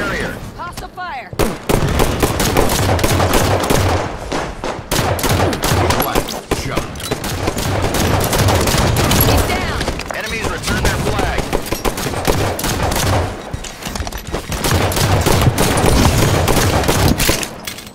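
Gunfire in Halo 5 Arena Capture the Flag on the Stasis map on Xbox One: dense, nearly unbroken rapid shots and explosions at high volume for the whole stretch, with game voice callouts mixed in.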